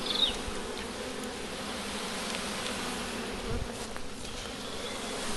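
Honeybees buzz steadily as a swarm around a hive box, a dense, continuous drone that stays even throughout with no voices.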